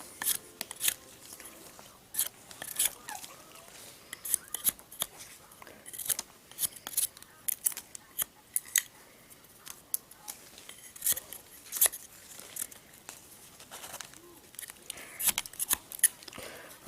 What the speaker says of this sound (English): we're going to skin this, this branch now, and then we're going to cut it in half